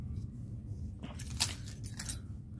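Metal keys jangle and scrape against the shrink-wrap of a vinyl record being opened, a short burst of bright clinking over a low steady background hum, with a couple of sharper clicks near the end.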